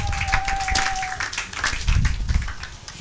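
A church congregation applauding in praise: a burst of scattered hand clapping that swells in the middle, mixed with a thin steady tone at the start and some low rumbling crowd sound.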